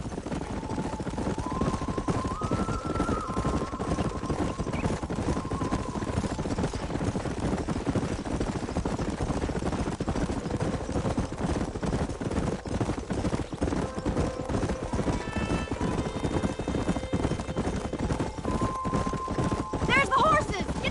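Horses clip-clopping in a cowboy video game, a steady hoof rhythm under game music and characters talking throughout.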